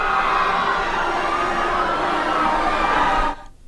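A huge crowd of around 55,000 people at a Jojo Siwa show roars and cheers in a dense, steady wash of voices, loud and continuous for about three seconds before cutting off abruptly.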